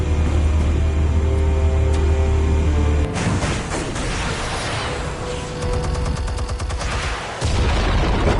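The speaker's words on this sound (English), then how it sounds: "Explosives armed. Fire when ready." Explosives detonating in the Batman Telltale video game: a loud, dense blast and crackling debris break out after a steady hum, with rattling bursts and a second surge near the end.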